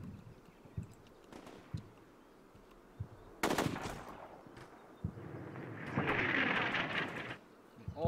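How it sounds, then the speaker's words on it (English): Gunfire crackles in a military video game, with scattered single shots followed by a sharper burst and a longer rattling volley, all fairly faint against a quiet background. "There's the first rounds fired at the lead elements."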